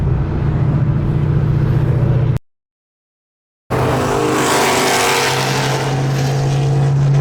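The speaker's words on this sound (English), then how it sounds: "there's a car cruise going on" A loud, steady car engine drone with a deep rumble at a car cruise, cut by a brief silent gap before the engine noise returns just as strong.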